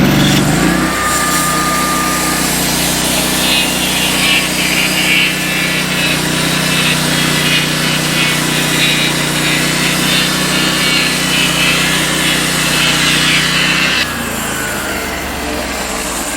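A Norwood LumberMate sawmill cuts a poplar log into 1x8x8 boards, its engine and blade roaring loud and steady for about fourteen seconds before the cut ends and the sound drops.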